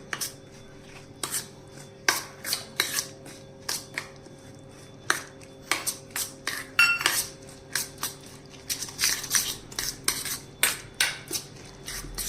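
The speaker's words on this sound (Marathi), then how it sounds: "आता हे पूर्ण मिक्स करून घ्यायचं." A spoon stirring and mixing egg batter in a bowl, with a steady run of light metallic clinks and scrapes against the bowl, close and fairly quiet.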